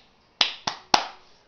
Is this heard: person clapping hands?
yes